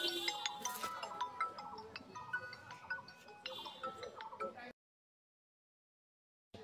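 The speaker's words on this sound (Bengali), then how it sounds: "এই অসময় আবার কে ফোন দিচ্ছে?" Phone ringing with an incoming call in a village setting, a faint repeated electronic ringtone of short tonal bursts for several seconds before cutting to silence.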